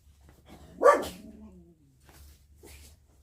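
A dog barks once loudly near the microphone, then gives a couple of fainter, shorter barks or yips, with quiet room tone between them and no talking.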